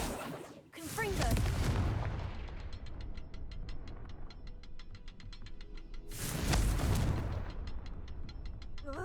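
A blasting-spell explosion in a video game bursts twice, each a loud booming blast with crackling debris, the first near the start and the second about six seconds later, with rattling mechanical clicks in between.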